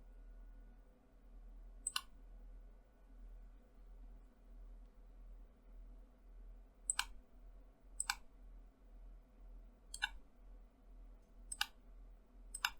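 A handful of crisp, isolated mouse-wheel clicks, six or so, spaced a second or more apart over a faint low hum, as a user confirms commands in Siemens NX CAD software.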